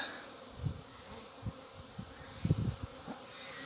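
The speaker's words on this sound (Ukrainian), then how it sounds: "Пасіка загуділа, як весною." Honeybees fly around an apiary on a warm, sunny December day of about 15 degrees, giving a soft, low buzzing that swells briefly in a few faint passes over quiet background.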